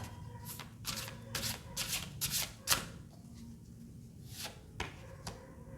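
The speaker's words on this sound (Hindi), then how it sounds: "जब तक मैं कार्ड शफल कर रही हूँ" Tarot cards being shuffled by hand during a card reading, with a series of crisp riffling bursts and soft flicks close up, separated by short pauses and slowing toward the end.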